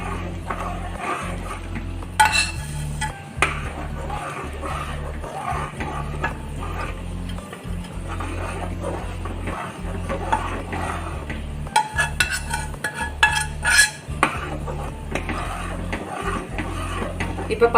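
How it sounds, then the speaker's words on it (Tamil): Roasted rava being stirred into boiling water in a pot for rava pongal gives off intermittent metal scrapes and clinks of a spoon against the pot over a low steady hum, with a person talking throughout. "சேர்த்துக்கிட்டேவும் கிளறிக்கிட்டே இருங்க"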